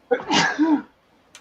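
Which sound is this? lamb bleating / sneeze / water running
sneeze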